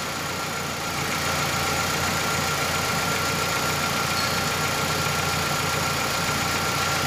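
A 2002 Ford Ka 1.0 engine idles with ignition misfires and worn piston rings, a steady close-up mechanical drone with a faint uneven knock running throughout, no voices.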